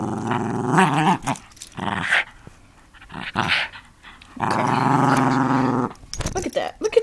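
A toy poodle puppy growls in short, rough bursts close by, with a longer sustained growl midway, while a person talks over and between the growls.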